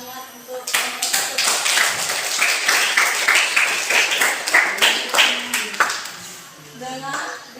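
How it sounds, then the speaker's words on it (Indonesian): Classroom applause for a student group in a mathematics lesson, a burst of hand clapping from a room of pupils with some voices mixed in, fading toward the end. "beri plus dan tepuk tangan untuk kelompok"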